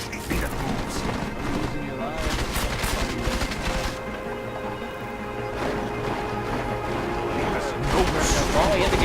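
Gunfire in the stealth-action video game Deus Ex: Mankind Divided, a steady barrage of rapid shots, crashes and impacts continuing loudly throughout, with a voice speaking over the chaos.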